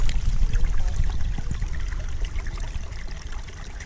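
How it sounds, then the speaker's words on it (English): A babbling brook far from civilization, heard as a steady, close wash of trickling, splashing water that carries on throughout without any voices. "you can see, once again, the babbling brook."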